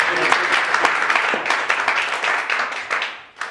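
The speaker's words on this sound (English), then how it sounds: "why don't you give David a round of applause?" An audience at a Mattersey Hall dissertation session applauds David with loud, dense clapping that carries on for several seconds before it tapers off, and a voice can be heard over it.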